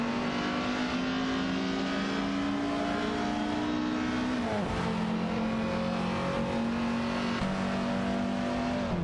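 Race car engines in an AI-driven racing video game rev and hold a steady high whine, with a couple of sharp dips around gear shifts or cars passing, loud and continuous without voices.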